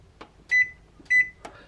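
Kitchen timer being set while baking buttermilk recipes: a few short button clicks followed by two clear electronic beeps, close and distinct, with no talk.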